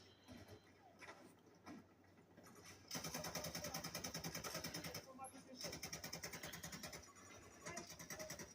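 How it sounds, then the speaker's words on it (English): Rapid machine gun fire in Battlefield 2042, long sustained bursts of fast, even shots with a brief pause between them, loud and close, with players talking under it. "this is the machine gun"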